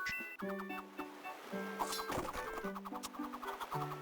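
A chicken clucks in the Nintendo DS game Phantom Hourglass, short game-style cluck sounds repeating over looping chiptune music and ambient game effects.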